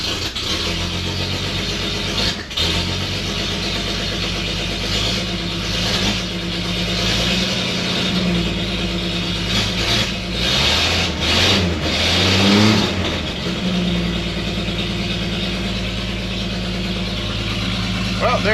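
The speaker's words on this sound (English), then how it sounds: "make sure the truck's in neutral, which it is, and hit the starter pedal." Antique fire truck engine cranked with the starter pedal while in neutral: a harsh, near, continuous churning roar with a brief dip early on, then surging and revving as it catches and runs.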